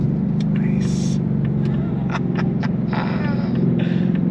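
A 2025 Ford Mustang Dark Horse's 500-horsepower engine drones with a deep, steady rumble under throttle, loud and close throughout, while occupants talk over it in bursts.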